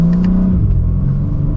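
2025 BMW M4 Competition accelerating, its engine note rising in a steady low drone with a brief tonal sweep early on, loud and close from inside the cabin.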